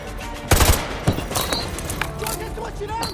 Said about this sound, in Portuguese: Eles estão atirando!